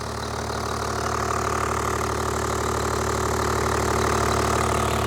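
A Toyota Land Cruiser 100 series with a 1HD-FTE diesel engine idles in an open engine bay, giving a steady, even, rumbling clatter that sits loud and close throughout and has no talking over it.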